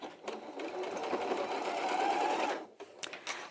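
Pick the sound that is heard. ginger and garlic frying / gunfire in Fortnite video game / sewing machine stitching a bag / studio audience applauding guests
sewing machine stitching a bag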